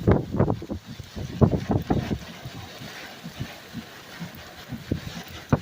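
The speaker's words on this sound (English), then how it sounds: "I'd say 50, 55 mile an hour wind." Strong straight-line storm wind near Branson West, a rough, gusting roar buffeting close by with louder bursts early on, then a lower, steady rush.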